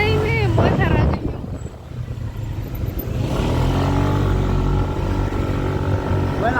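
Steady engine drone of a motorcycle ride through city streets, with wind rushing across the microphone and a rising hum of traffic around, while people talk over it.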